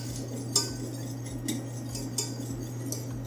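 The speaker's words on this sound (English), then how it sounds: "then whisk really well at the same time" A whisk stirs sugar and pectin into a mixture in a bowl, giving light metallic clinks and scrapes at an uneven pace over a steady low hum.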